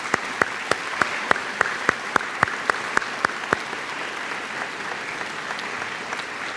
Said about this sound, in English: Let's give a round of applause for the class of 2025.